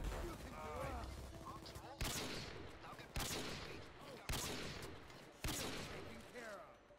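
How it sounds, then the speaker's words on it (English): Gunfire in the Goat Simulator video game: four or five sharp, loud shots spaced about a second apart, each with a ringing tail, over a dense busy game background with a voice talking early on. "I'd like to know where I'm being shot from."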